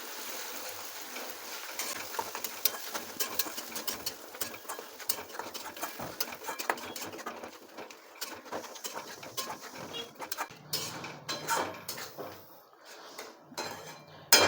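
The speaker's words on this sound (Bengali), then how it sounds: "দিয়ে এটাকে খুব ভালো করে নাড়াচাড়া করে নেব" A spoon stirs a salted spice mixture in a pan for a parshe fish curry, giving a continuous run of quick metallic clinks and scrapes, close by, with a soft background hiss.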